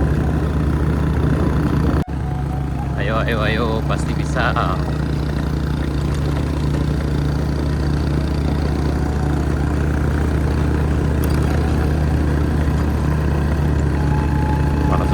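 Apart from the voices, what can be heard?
motorcycle engine straining on uphill climb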